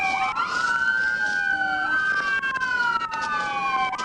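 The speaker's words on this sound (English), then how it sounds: "could you go turn my sirens off" A police siren wails loudly nearby, its pitch sweeping up and down in a continuous yelp with no voices.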